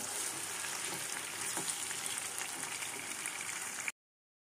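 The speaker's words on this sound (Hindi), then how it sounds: "तो बस इन पर अच्छा सा कलर आने तक फ्राई करेंगे इनको।" Elephant foot yam pieces fry in plenty of oil in a kadhai, giving a dense, even sizzle that hisses close and unbroken until it cuts off abruptly.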